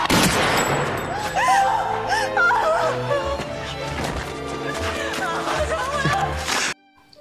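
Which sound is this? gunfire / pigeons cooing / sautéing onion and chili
gunfire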